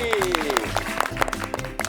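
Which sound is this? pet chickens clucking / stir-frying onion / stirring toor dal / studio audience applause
studio audience applause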